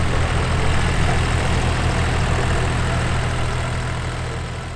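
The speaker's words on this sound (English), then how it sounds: "Here's a High Clear Offset Model 274 diesel." An International Harvester High Clear Offset Model 274 diesel tractor, from the late 1970s or early 1980s, idles steadily nearby, a low throbbing chug that fades slightly toward the end.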